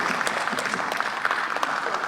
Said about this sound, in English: especially those who are clapping now